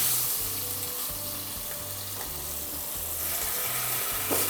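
Lean supermarket beef steak sears in hot oil in a pan over high heat, a loud, continuous close-up sizzle with occasional crackles and spits and no talking.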